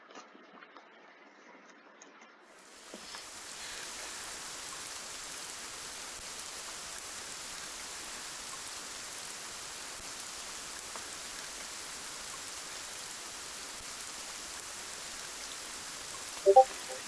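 Rain falls outdoors near horse stables as a steady, even hiss that starts after a quiet opening and holds constant, with a brief knock near the end.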